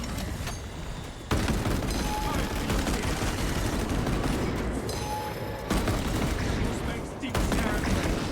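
Gunfire in Space Marine 2 rattles in loud, rapid bursts of automatic shots with heavy impacts, sustained across the whole stretch with short breaks between volleys.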